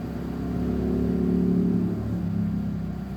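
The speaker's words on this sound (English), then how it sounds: "I'm right beside my window, so you can probably hear the traffic." A low rumbling engine sound swells and fades as a vehicle passes outside, steady road noise with no voices.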